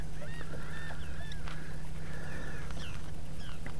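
Birds honk and squawk repeatedly near a fishing boat out on the water. The calls come in overlapping bursts over a steady low engine hum.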